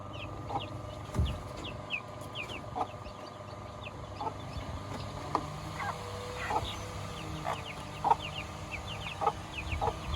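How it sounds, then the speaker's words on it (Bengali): Chickens clucking and panting in a village coop on a hot afternoon, repeated short clucks scattered over a steady low hum, fairly close and moderately loud. "মুরগি সব হাঁপাচ্ছে"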